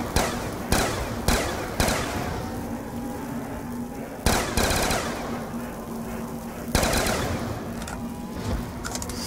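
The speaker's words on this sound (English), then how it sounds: "That's something about LMG is not very accurate" LMG fire in Black Ops 2 Zombies, loud sharp bursts that crack out at intervals and trail off between them, close and with no talking over them.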